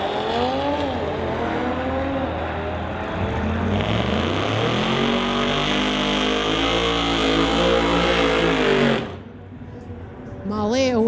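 A 2018 Audi RS3 drag racing a 1966 Acadian packing a Chevy 540, engines roaring close and loud with rising, shifting revs, then a sudden drop-off before another burst of engine noise, with talk underneath.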